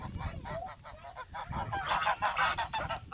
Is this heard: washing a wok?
no